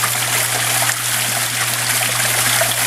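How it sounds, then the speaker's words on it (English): Water falls and splashes continuously in a backyard water feature with rocks, making a steady, loud, close rushing trickle alongside a low constant hum. "Nothing better than falling water in the yard."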